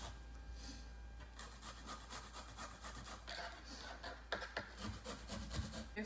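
A zucchini is rubbed against a kitchen grater in quick repeated rasping strokes, soft and fairly faint, with a steady rhythmic scraping through most of the clip.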